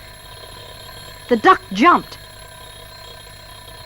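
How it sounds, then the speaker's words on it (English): A loud alarm rings out in a children's steamboat mystery story, sounding in two or three quick ringing bursts of about a second, surrounded by narration. "a loud alarm went off"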